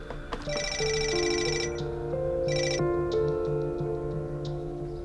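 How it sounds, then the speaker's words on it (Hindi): A phone rings with a bright electronic ringtone, repeating bursts of chiming tones over a steady melodic pattern, close and fairly loud. "सानिया, मैं फोन का इंतजार ही कर रही थी।"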